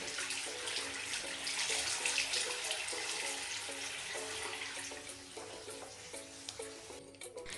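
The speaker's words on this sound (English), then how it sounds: "Some water's gone in the bottle" Tap water runs steadily into a plastic spray bottle, a continuous close hiss and splash that lasts throughout, with a slight bubbling edge as the bottle fills for a curly hair care routine.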